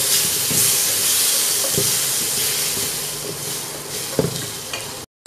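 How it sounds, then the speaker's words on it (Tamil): Onions sautéing in a pan with turmeric and tomato for an amaranth greens stir-fry, giving a steady close sizzle with periodic scraping stirs and a brief clatter near the end. "வெங்காயம் சீக்கிரமாகவே வதங்கிடும்"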